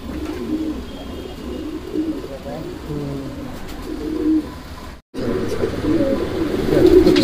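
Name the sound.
homing pigeons cooing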